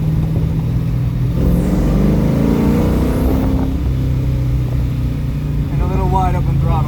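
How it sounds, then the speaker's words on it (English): A car engine climbs under wide open throttle with the windows down, a loud steady drone with rising harmonics that swell and ease off, while a voice speaks briefly near the end. "And a little wide open throttle for you."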